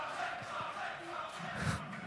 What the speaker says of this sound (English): They're cheering out there.